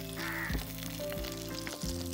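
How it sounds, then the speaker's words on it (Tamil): Steady crackling sizzle of curry leaves tempering in hot oil, continuous and close, with faint background tones and no speech. "இங்க எண்ணெய் ஊத்துறோம், கருவேப்பிலையை போட்டு தாளிக்கிறோம்."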